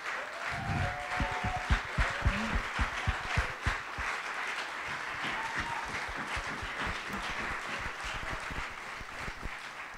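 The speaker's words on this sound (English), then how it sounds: "give them all a huge round of applause" Applause from a conference audience for the contestants at a regional East Africa event, a dense wash of many hands clapping steadily with a few louder sharp claps near the start, continuing evenly for about ten seconds.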